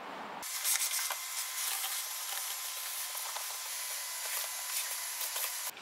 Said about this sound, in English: We're just going to grab a shop vac, vacuum it off, and then we'll start disassembling.